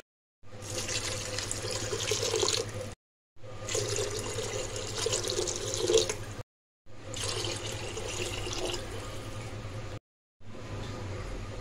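Water splashes and pours steadily into a cooking pot for vegetable pulao in several bursts, each lasting a few seconds with short silent gaps between them.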